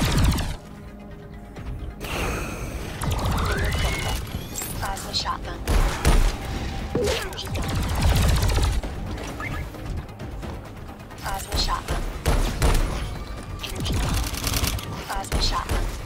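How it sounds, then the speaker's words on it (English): Shotgun fire in the video game Alienation amid chaotic combat, with repeated heavy blasts, crashes and mechanical clatter layered densely over sixteen seconds, loud throughout, and a voice talking over the action. "the shotgun."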